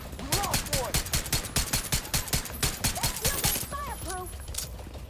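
Rapid bursts of gunfire from shooting enemies in The Division 2, a steady run of sharp repeated shots across the whole stretch, with a voice talking over part of it.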